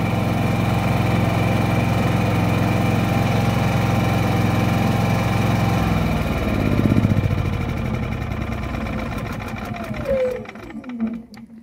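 A Senci SC 9000 i inverter generator runs on its first start with a loud, steady engine drone nearby, its pitch shifting partway through before it winds down and falls quiet.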